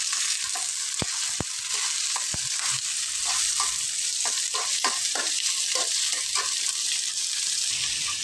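Onions and green chillies sizzle in a hot pan with garlic, a steady frying hiss broken by sharp scraping stirs and clinks of a spatula throughout.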